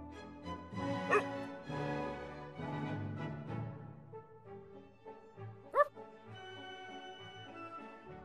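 In an educational video game, a cartoon puppy gives a series of short barks and whimpers over cheerful background music, with a couple of sharp yips standing out.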